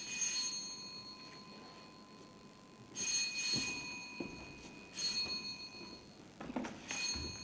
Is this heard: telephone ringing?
yes